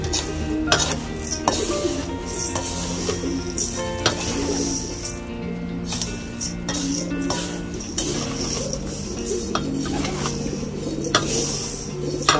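Pigeon vitamins, calcium, grit and minerals being mixed in a container, with steady rattling, clinking and scraping of granules and a utensil, close and continuous, with faint bird sounds in the background and no speech.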